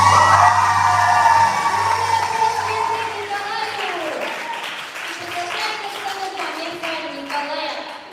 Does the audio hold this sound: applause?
yes